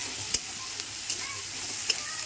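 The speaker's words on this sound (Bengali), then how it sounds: "পেঁয়াজটা দিয়ে আমি একটু ভাজা ভাজা করে নিচ্ছি।" Onion and whole garlic cloves fry in hot oil with a steady, even sizzle, and a few sharp clicks of stirring stand out above it. There is no talking.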